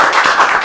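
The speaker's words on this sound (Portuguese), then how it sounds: "Uma salva de palmas." A brief burst of clapping from a few people in a podcast studio, loud and close, lasting under a second.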